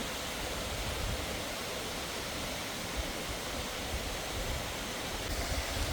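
A waterfall at Rufabgo rushes in a constant broad roar, unbroken and steady with no voices, sounding near and enveloping.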